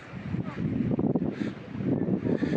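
Wind gusting steadily across a beach at Leucate, France, a constant rushing roar buffeting the microphone with swells and dips throughout.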